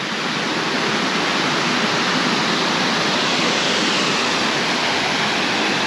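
Glen Falls creek rushing and dropping over rocky falls: a steady, loud, full-bodied roar of falling water, unbroken and close, with no voices.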